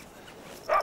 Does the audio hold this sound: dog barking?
yes